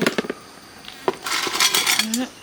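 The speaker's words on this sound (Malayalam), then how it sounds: "അടിയിൽ കുറച്ച് കല്ലിട്ട് കൊടുക്കാം" Small stones dropped into the bottom of an old plant pot for drainage, giving a quick run of hard clinks and rattles close by.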